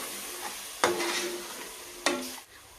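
Ginger sizzling in hot oil for a country chicken curry, with two sharp bursts of frying as pieces drop in, each settling into a steady crackle before fading.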